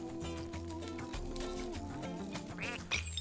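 Repeated nasal duck quacks from a duck character in the platform game Rayman Legends, sounding over busy, loud game music.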